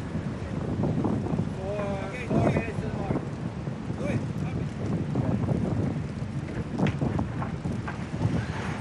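Steady wind roars and buffets across the microphone on open water at a VO65 racing sailboat start, with broad rushing noise and occasional voices calling faintly underneath.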